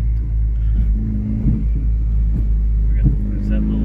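Straight-piped Ford Focus RS exhaust gives a loud, close, deep rumble that holds steady, with occasional sharp pops breaking through, while voices are faintly present underneath.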